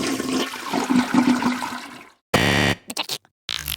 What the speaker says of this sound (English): If you pick this answer hoping to hear a toilet flush sound,